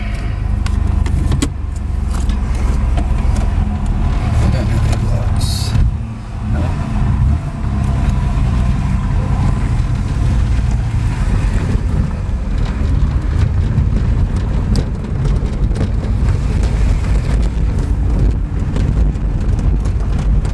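A scrapped VN Formula car being driven, its engine droning loudly and steadily with some rumble from the road and wind, close throughout, with a brief dip in level partway through and no talking.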